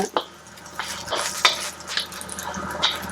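Kashmiri chilies are dry-roasted in a pan and stirred, with light rustling scrapes and occasional clinks of the utensil against metal, close and moderate, with a faint sizzle in the background.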